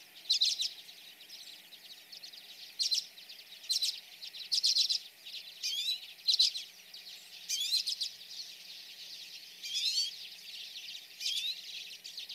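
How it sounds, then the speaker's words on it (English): Common redpolls give short, high, buzzy calls and trills in repeated bursts, clear and fairly faint against a quiet background. "this is a recording of a bunch of different calls that you might expect from a red pole"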